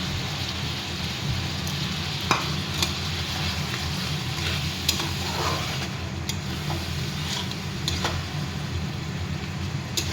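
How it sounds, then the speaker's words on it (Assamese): A spice paste of cumin, garlic, chilli and ginger fries in a pot, giving a low, steady hiss with occasional faint spits and pops throughout. "মই মছলাখিনি ভালদৰে ভাজিব লাগিব।"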